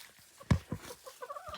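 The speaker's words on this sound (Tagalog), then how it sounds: "So ito guys yung mga manok namin" A few scattered clucks and soft calls from laying hens nearby in cold weather, quiet and irregular.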